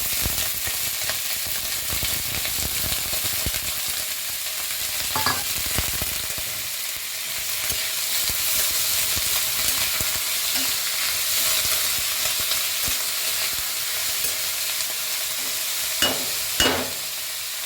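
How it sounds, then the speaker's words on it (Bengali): Chopped onions fry in hot oil in a pan while mudi ghonto, a fish-head and rice dish, is prepared, giving a steady soft sizzle with occasional spoon scrapes and stirs, moderately close, with no talking. "এবার পেঁয়াজটা ভাজা ভাজা হোক।"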